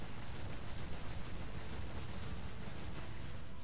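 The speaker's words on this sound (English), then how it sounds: "please stop bombing my fucking hometown" Bombing explosions in a Jade Empire shooting minigame, a dense continuous roar of blasts and rumble, loud and unbroken for several seconds with no voices.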